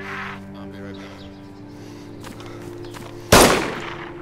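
A sudden sharp gunshot bursts out near the end during DayZ Standalone gameplay, loud and brief with a decaying tail, after a stretch of quiet ambient hum and faint distant sounds.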